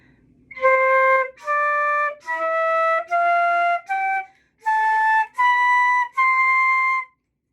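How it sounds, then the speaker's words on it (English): Eight sustained notes of a major scale played one after another rising, each held roughly a second with short gaps, clear and alone. "a normal scale with 8 notes sounds like this"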